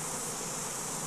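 Italian honey bees buzzing densely as a swarm, a close, continuous droning hum with no voices.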